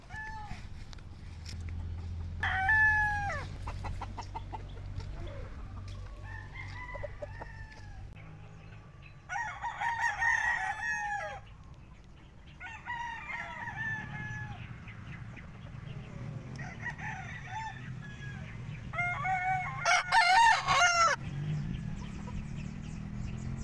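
Several gamefowl hens on a game farm cluck and squawk close by, with a rooster crowing loudly twice over a low rumble of background noise.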